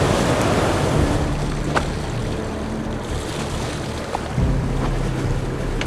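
A sailing catamaran heads out of harbor to open sea, carried on a steady rush of wind and water with waves washing against the hulls and a low rumble underneath, loud and continuous.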